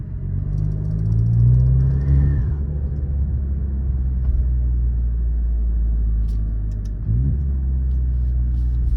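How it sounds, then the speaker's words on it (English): An Alfa Romeo Giulia fitted with a BMC drop-in air filter rolls through a neighborhood at low speed, giving a steady close engine rumble with a slight rise early on and no talk. "I'm just trying to drive around low speeds in my neighborhood."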